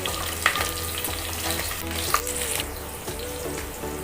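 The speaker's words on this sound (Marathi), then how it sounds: "आता लसूण थोडी लाल झाली, आता आपण मिरच्या टाकूया।" Green chilies dropped into hot oil with reddened garlic for poha chivda, a loud, steady crackling sizzle with small pops and stirring, close by and without talking.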